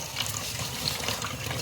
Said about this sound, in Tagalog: hugasan nyo lang ang bigas